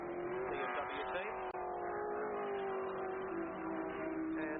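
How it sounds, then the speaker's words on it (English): A BMW race car in a 1982 race climbs a hill, its engine holding a loud, steady high-pitched drone with slight pitch shifts, heard from a moderate distance over a brief few seconds. "He's got a BMW chasing him up the hill"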